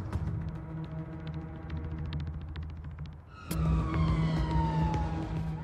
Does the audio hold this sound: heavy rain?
no